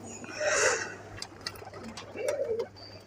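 Pigeons kept in a loft give soft cooing calls, two or three short coos close by and fairly faint, over a low steady hum.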